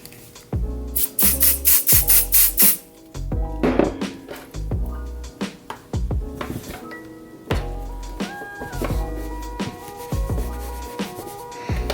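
Temporary adhesive spray is sprayed onto embroidery fabric in several short, close hissing bursts early on, followed by assorted thuds and handling sounds.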